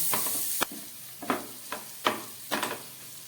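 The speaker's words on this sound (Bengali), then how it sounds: "লঙ্কার গুঁড়ো আর দিচ্ছি সামান্য জিরের গুঁড়ো যে হাফ চামচ মতো এই সব কিছু দিয়ে আমি আরেকটু মশলাটাকে কষিয়ে নেবো" Spice masala with chili powder and cumin powder being fried with raw tomatoes, a low sizzle punctuated by a regular run of sharp spatula scrapes and taps on the pan, near and fairly clear.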